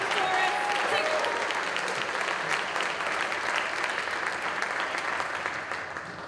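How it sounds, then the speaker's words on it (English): Sustained audience applause at an arts festival performance after an improv act, dense and steady throughout before tapering slightly at the end, with a few voices faintly mixed in. "Let's give one more round of applause to"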